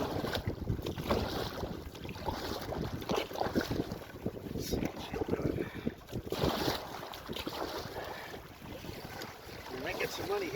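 Canoe on a small lake-country rapid being poled upstream with a big stick, rushing water and wind buffeting the microphone throughout, with scraping and splashing close by.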